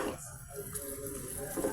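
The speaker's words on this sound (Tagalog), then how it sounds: "lalagyan na ni Master ng tubig" Water is poured into mushrooms cooking in a pan, a continuous gurgling, splashing pour heard close up with faint background noise.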